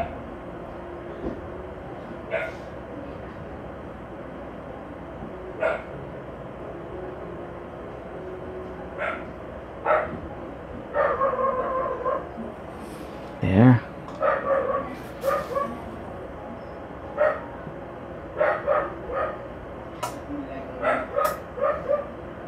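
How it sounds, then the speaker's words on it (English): Loud dogs bark in scattered short bursts, several overlapping yips and woofs at moderate distance above a steady background hum, irregular across the stretch. "if you can hear the loud dogs"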